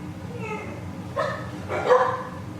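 A dog gives a few yipping barks indoors, two short bursts preceded by a faint whine, moderately close and not very loud.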